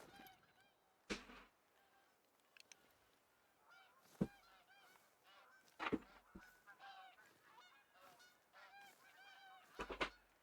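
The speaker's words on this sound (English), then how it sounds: "Dude, I have been constantly hearing these geese" Geese honk in scattered bursts, some single calls and some quick doubled ones, moderately distant and fairly quiet, with no one talking.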